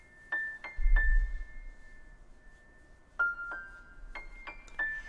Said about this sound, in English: My first layer is this melody on top of the piano, played in with a different piano, and it sounds like this.